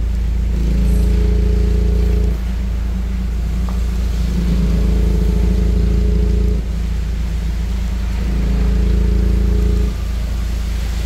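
A car fitted with a dual-mode exhaust switchable between stock and racing sound, its engine idling loudly and deeply up close with three rising blips of revs, each surge holding a couple of seconds before dropping back.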